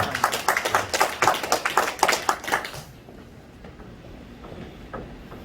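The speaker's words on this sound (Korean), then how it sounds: "저는 인사할 때 박수 한번 부탁드립니다." Church congregation clapping together during a Sunday worship service, a burst of sustained hand claps for about three seconds that then stops, leaving quiet room tone.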